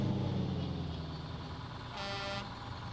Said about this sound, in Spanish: Muy bien el sonido de este camión